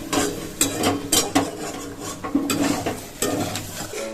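Vegetables from a rooftop garden are fried in a pan while a utensil stirs and scrapes the metal repeatedly, under a soft steady sizzle, close and moderately loud.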